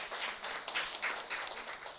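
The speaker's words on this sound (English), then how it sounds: "So all claps to all the safety professionals." Applause from an audience of safety professionals at a national safety conclave, a steady wash of many hands clapping at moderate distance, continuing without pause and with no voices.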